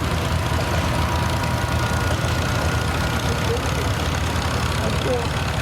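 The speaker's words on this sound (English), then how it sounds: "This is a 1961 Farmall Model 340." A 1961 Farmall Model 340 tractor idles continuously nearby at an antique tractor show, a steady, low rumble with a constant throb and no pauses, under some faint background noise.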